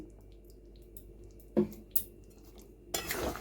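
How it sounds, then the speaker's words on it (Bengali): Spoon stirring masala paneer in a pan after ghee goes in, heard as a couple of close metallic scrapes and clinks, then a louder burst of sizzle and scraping near the end, with no talking. "ঘি দিয়ে একটু নাড়িয়ে বন্ধ করে রেখে দেবেন।"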